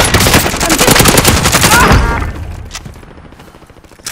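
Explosions and gunfire in Call of Duty: Modern Warfare: a loud burst of rapid automatic fire lasting about two seconds, then fading into quieter game ambience with a faint thump near the end.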